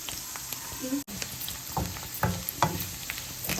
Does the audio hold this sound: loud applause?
no